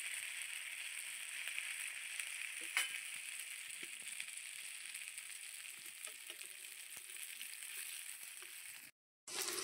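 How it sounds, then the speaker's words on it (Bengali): Vegetarian fritters frying in hot oil, a steady, close, even hiss of bubbling oil with a few small crackles, broken near the end by a short gap before the sizzle returns; no talk. "তেলটা এদিকে আমার গরম হয়ে গেছে, এবার আমি ভাজতে দিয়ে দিচ্ছি।"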